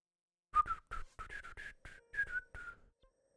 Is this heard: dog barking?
no